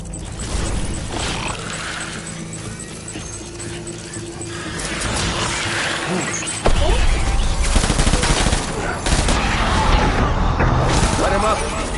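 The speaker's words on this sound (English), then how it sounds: "Taking fire." Video game gunfire rattles on in sustained bursts of automatic fire and scattered shots over a dense, noisy battle backdrop, growing louder and heavier partway through.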